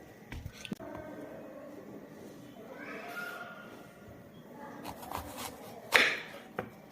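A knife cuts into a fresh apple, giving soft squishy slicing sounds and a sharper crunch near the end, close to the microphone over a quiet background.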